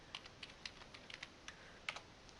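Typing on a computer keyboard into a search box in Excel, a quiet, close run of light, irregular key clicks with a few sharper taps, alone without talk.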